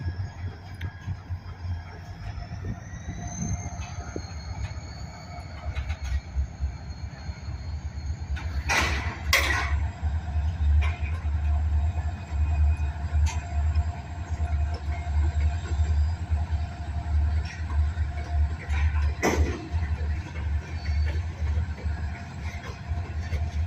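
Heavy train climbing a long hill, a steady low rumble of locomotive and rolling cars close by, with rail clatter and brief metallic squeals and knocks throughout.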